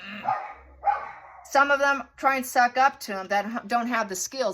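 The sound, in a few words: dogs barking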